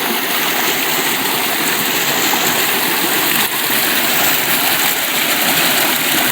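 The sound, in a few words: stream flowing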